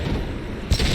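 Gunfire from the video game Mass Effect 2, a single heavy, booming impact shot landing late in a low rumbling background of game ambience.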